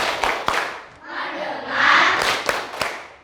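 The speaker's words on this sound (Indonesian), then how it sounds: "sekarang biar tambah semangat, kita tepuk fokus dulu" Schoolchildren in a classroom doing the rhythmic 'tepuk fokus' clap chant, sharp spaced claps mixed with loud group shouting in unison, close and energetic.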